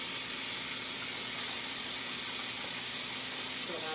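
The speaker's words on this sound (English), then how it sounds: "I'm going to press my little vent to vent the steam" Steady, loud hiss of steam venting from a pressure cooker, continuous and close, with no pauses.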